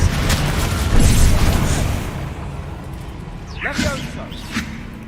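A Bombarda spell explosion in Hogwarts Legacy, a heavy low boom early on, followed by a rumbling tail and lighter whooshing spell effects.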